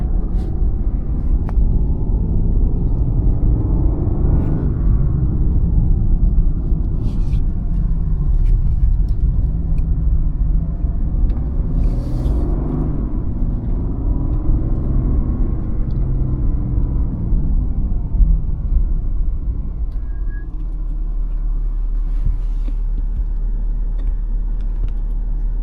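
A BMW M School car pulls away on the Spartanburg track, its engine a loud, steady roar with rising and falling revs that holds for the whole stretch and fades slightly toward the end.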